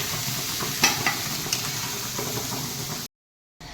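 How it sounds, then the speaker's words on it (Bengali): Prawns fry in oil with a continuous sizzle and occasional stirring scrapes, close and fairly quiet, breaking off into a short silence near the end before the sizzle returns. "এই আমার চিংড়ি মাছগুলো ভাজা হয়ে গেছে বেশি ভাজবো না অল্প ভাজবো"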